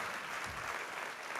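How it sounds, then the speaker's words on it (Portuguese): A church congregation applauds together in a broad, continuous wash of clapping that holds steady throughout at moderate distance, with no clear speech on top. "Você pode aplaudir o Senhor por isso?"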